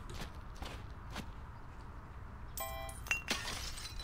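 Glass shattering in a recycling video game: a brief, bright crash of breaking glass arrives late, after a stretch of low background rumble and scattered small clinks, followed by a short tinkle.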